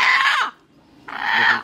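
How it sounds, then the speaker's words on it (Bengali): A desi rooster, a roughly one-kilo native bird, gives two loud, close harsh calls separated by a short pause, each burst bright and strained like a crow or squawk. "এটা সব থেকে ভালো খেতে এই মোরগটা।"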